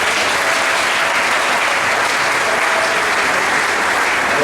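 A church congregation applauds for the Lord during a worship service, a dense, loud, steady wash of many hands clapping that carries on unbroken throughout.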